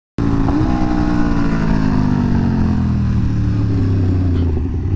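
Motorcycles ridden fast into a turn, their engines loud and close in one continuous roar whose pitch slides steadily downward as the riders ease off for the bend.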